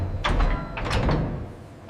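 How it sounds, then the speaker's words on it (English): A massive steel door on a high-pressure sterilization vault in a papaya juice factory slides and locks shut, a heavy, loud metallic rumble and clunk in two surges, followed by a faint final knock. "The massive steel door locks tight, sealing the chamber for the high-pressure cook."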